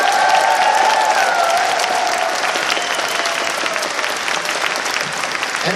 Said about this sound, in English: Let's give one round of applause for all these guys here.